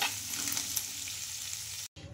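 Rice-flour goli idli tossed with chopped coriander in a pan gives a soft, steady sizzle and scrape of stirring, close and even, then a brief cut to silence near the end.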